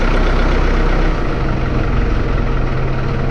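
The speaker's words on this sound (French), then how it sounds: "Faire ralentir un peu le tracteur, c'est pas la peine de laisser accélérer" Tractor diesel engine running steadily nearby while shredding a cover crop, a loud continuous low rumble with a slight drop in level partway through, no voices.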